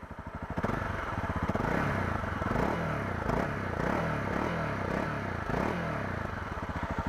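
A 2016 Honda CRF250L motorcycle engine, already warmed up, idles with a rough, pulsing exhaust note, then revs several times in quick, rhythmic bursts, close by.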